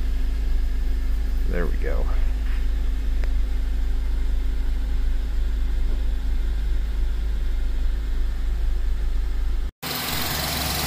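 A 2003 Honda Element 2.4L AWD engine with an overheating problem idles steadily and close by, a constant low hum under brief talk, followed by a sudden break and a brighter, noisier stretch at the end.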